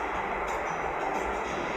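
A FrontRunner commuter train rumbles along in a steady, continuous roar of wheels and carriage noise, heard up close as if from on board, with faint rattles over the drone.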